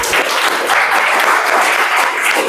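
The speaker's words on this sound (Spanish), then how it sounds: "Denle un aplauso" An audience claps loudly and continuously in a thick, even burst of applause with no break.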